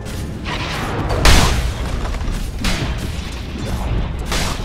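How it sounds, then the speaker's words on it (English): A tower collapses in a Dota 2 match, with a heavy booming crash followed by rumbling game effects and several further thuds. "Dire's top tower has fallen."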